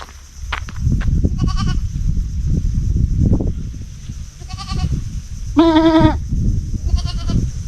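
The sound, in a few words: goat bleating nearby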